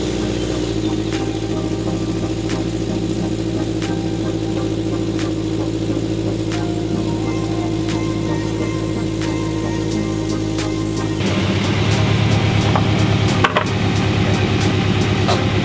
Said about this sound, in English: I'm going to drive it off blocks